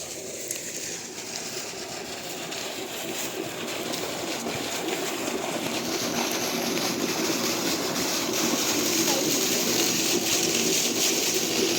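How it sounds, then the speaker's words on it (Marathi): Constant rushing water from the Ozar Khed dam pours into a farm well, roaring steadily throughout, a dense broadband wash that grows slightly louder, with no voices. "ही विहीर बघा, हे ओझर खेड धरणाचं पाणी या विहिरीत येतं."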